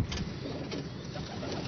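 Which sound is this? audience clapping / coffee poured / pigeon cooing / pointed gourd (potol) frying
pigeon cooing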